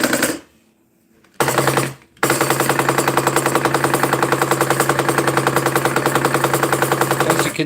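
Shar-Kade shark-shooter arcade guns fire with recoil, a rapid, steady mechanical rattle that runs continuously after a short silence and a brief burst, loud and close throughout.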